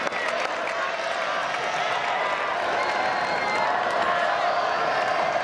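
A stadium crowd applauds and cheers after the boys' 4x400m relay final at a Chiba prefectural high school track meet, a loud, steady wash of clapping and crowd noise that holds for the whole stretch.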